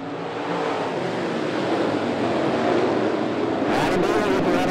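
NeSmith late model race cars start a race at 411 Motor Speedway. A dense engine roar swells as the pack gets going, and a sharper burst of noise comes near the end.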